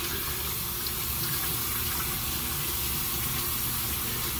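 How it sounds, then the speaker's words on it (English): Hot water running steadily from a tap while an arm is rinsed under it, a continuous close gushing hiss with no talking. "simply running hot water and just rinsing my arm off"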